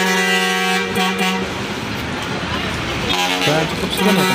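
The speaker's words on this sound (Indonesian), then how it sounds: "ada bus datang lagi dari Mandala dari arah Surabaya yang akan menuju ke Tasik" A Mandala intercity bus arriving from the direction of Surabaya gives long, loud multi-tone horn blasts over a rumbling engine, with a second honk near the end.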